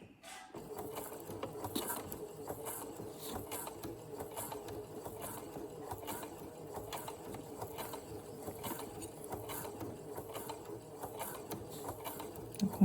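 A sewing machine stitching piping onto fabric, running at an even, steady pace with a continuous rapid mechanical patter close by for the whole stretch.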